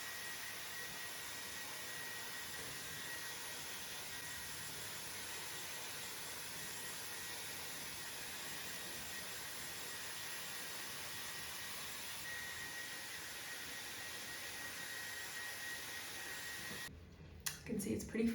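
A Dyson Airwrap blows hair dry on its highest heat and air settings, giving a steady, close, roaring whoosh that holds unbroken for most of the clip before ending with brief rustling handling noise.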